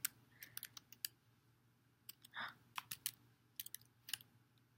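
Computer keys and a spacebar are pressed while someone plays the Oregon Trail video game: sparse, quiet plastic clicks and taps in irregular bursts, with one brief soft rustle, close to the mic and without speech.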